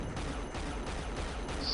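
Gunfire from the video game Unreal, set deep in the mines, crackles steadily through a dense, noisy mix. Shots blur into a continuous rattle rather than distinct cracks, with no talking.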